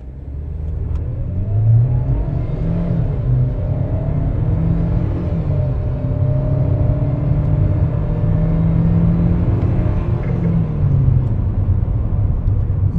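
A 2024 GAC GS3 Emzoom accelerates in steady, loud engine drone heard from inside the car, rising gradually in pitch across the clip, with no voices.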